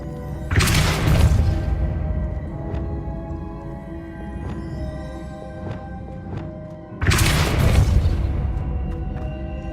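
Depulso spell effect in the video game Hogwarts Legacy, two loud booming bursts, each followed by a fading rumble and light magical chimes.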